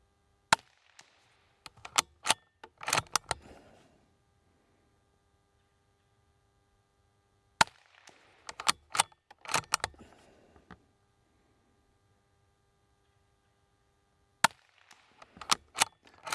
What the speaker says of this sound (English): let me go for another 5-shot group and see if that was luck